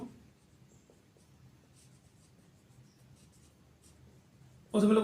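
Pen scratching across paper while a math solution is written out, faint and steady, with a louder burst of noise at the very end.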